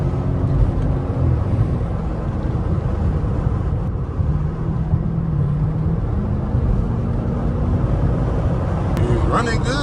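A high-mileage HEMI engine in an old car drones steadily from inside the cabin, with a low rumble that rises and falls a little under the hum. Scattered voices can be heard.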